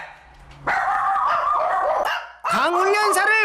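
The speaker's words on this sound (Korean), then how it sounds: "저희 강아지들이 짖으니까 마음이 어때요?" Several pet dogs bark loudly and close by in a home, with sharp yips and a drawn-out whining bark after a short pause, and no talk over them.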